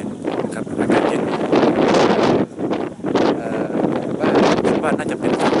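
Strong cold wind in the mountains buffets the microphone in loud, rough gusts that surge and briefly dip, a continuous roaring rumble throughout.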